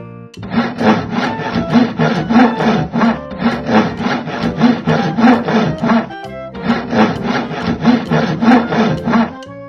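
Wood being sawn by hand for a wooden cabin, steady rhythmic back-and-forth rasping strokes in three close, loud runs separated by brief pauses.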